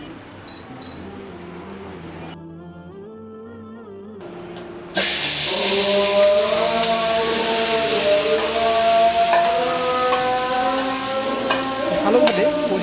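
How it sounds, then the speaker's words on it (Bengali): Marinated meat hits a hot pot on the stove and sizzles steadily. A brief quieter stretch gives way to a loud, continuous frying hiss with stirring that lasts to the end. "এরপর চুলা অন করে মাংস পাতিলে তুলে দিন।"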